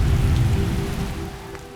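Steady rain patters in the Fallout 4 Wasteland Genesis modlist, a dense, even wash of rainfall with a low rumble underneath, close and continuous without talk.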